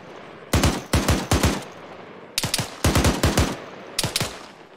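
Automatic rifle fire in the Arma 3 video game rattles out in rapid bursts of three to five shots, loud and close, separated by short pauses.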